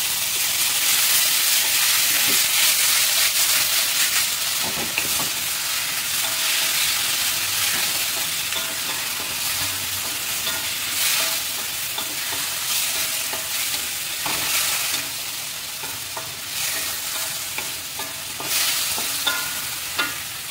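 Chicken wine ingredients fry and get stirred in a little oil, giving a loud continuous sizzle and hiss with scraping stirs throughout, no talk.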